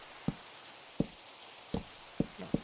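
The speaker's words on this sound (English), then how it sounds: "Just some rain." Rain falls in Minecraft as a soft steady hiss, with a few dull, evenly spaced thumps breaking through it, no voices present.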